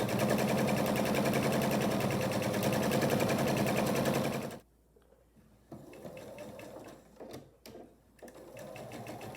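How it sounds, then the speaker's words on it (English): A sewing machine stitches quilt fabric in a fast, steady rapid-fire whir for about four seconds, then stops, leaving quieter handling rustles and a few brief clicks. "I'll feed my next fabrics right in. These ones I'll just feed through without pinning."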